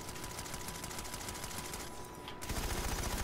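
A sentry gun fires in a video game, a steady, fast rattle of automatic shots that grows slightly louder and heavier partway through, continuous and fairly close.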